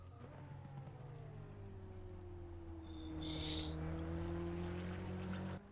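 Rain hisses steadily across a racing circuit in Assetto Corsa Competizione, while a race car engine drones in the background with slowly shifting pitch and a brief sharper burst near the middle.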